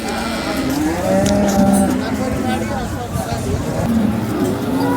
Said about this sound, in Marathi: भरपूर दिवसातनं सांगोल बाजारात गिर गाई बघायला मिळाली.